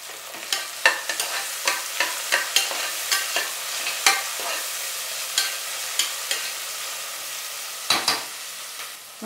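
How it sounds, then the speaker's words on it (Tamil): Onions and chopped tomatoes sautéing in a pan for mutton kothu kari, with a rapid run of rhythmic spatula scrapes over a soft background sizzle, close and clear, no one speaking. "ரெண்டு தக்காளி கட் பண்ணது, அதையும் போட்டு நல்லா சேர்த்து வதக்கலாம்."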